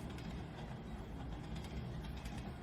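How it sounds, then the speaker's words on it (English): A train rumble sound effect played during a Wild West tabletop role-playing session, a dense, continuous low mechanical roar with rattling texture, steady and fairly loud throughout with no voices. "Sounds like a train."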